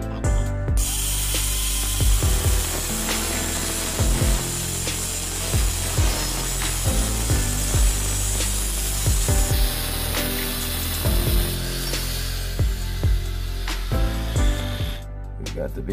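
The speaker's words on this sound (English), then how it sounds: "We're going to start by cutting this piece." Metal bracket piece clamped in a vise being cut, a continuous rasping cut with rhythmic strokes and scraping running steadily for the whole stretch, close and fairly loud, no speech.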